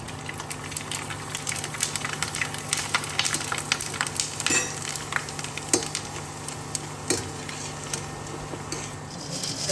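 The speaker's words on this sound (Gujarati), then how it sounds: "અહીંયા મેઇન આપણી સાબુદાણા બટેકાની વેફર તળાઈ છે" Oil sizzles and bubbles steadily as sago and potato wafers deep-fry, with scattered crackles and pops over a continuous hiss, fairly close.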